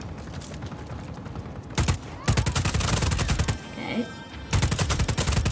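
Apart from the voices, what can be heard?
gunfire in the video game Just Cause 4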